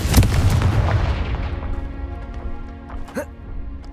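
A Confringo fire spell explodes in the Hogwarts Legacy video game: a loud, close boom at the start, followed by a rumbling decay and a few smaller pops.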